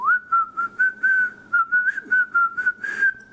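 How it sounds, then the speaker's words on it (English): A single person whistles a sustained tune alone, close and clear, in a run of short connected phrases with brief breaths between them. "whistling."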